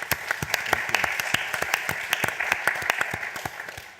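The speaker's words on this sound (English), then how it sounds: "giving them a big round of applause, please" A small crowd at a trade and globalization panel event claps steadily for a few seconds, the applause sustained and moderately loud, tapering slightly at the end.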